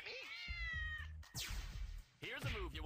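Siamese kittens meow repeatedly in a cartoon parody, several high drawn-out cries and squeals over music, with a voice talking between them.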